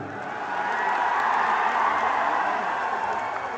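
Audience clapping at a live concert in Melbourne, a dense, steady wash of applause that swells and holds loud throughout, with some crowd noise mixed in and no talking.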